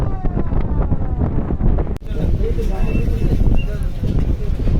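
Strong wind buffets the microphone aboard a small passenger launch on a river in rough weather, a loud continuous rushing roar with a brief dip midway, no voices.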